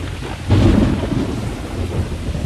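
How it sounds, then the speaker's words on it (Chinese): A thunderstorm with heavy rain: a deep rumble of thunder swells early and rolls on beneath the dense, steady hiss of rainfall. It is loud and close, with no voices. "赶上暴雨"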